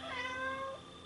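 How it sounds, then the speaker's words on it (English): A house cat gives a single clear, drawn-out meow that rises and then falls, close and alone, without any talking. "This is my ISTP cat here."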